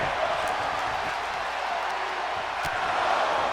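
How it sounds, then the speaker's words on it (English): A wrestling crowd chants and roars at the performers in the ring, a dense, steady wall of many voices filling the arena without a break. "The entitled crowd letting the performers know what they would prefer to see."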